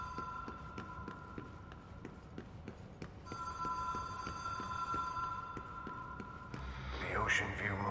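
In the video game Control, a telephone bell rings in a rapid repeating pattern, keeps going with a steady tone, and then gives way to a burst of other sounds, with a voice talking over it.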